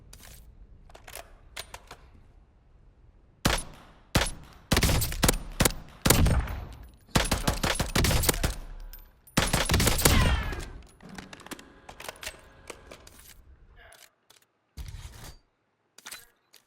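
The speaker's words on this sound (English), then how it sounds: "Now let me test this by shooting it real quick" Gunfire at a window in the video game Warzone, several sharp bursts of rapid shots clustered in the middle, loud and close with quieter gaps between volleys.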